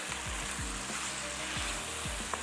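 Half-cooked potatoes and vegetables frying in a pan, a steady soft sizzle with occasional faint stirring clinks, close and quiet, no talking.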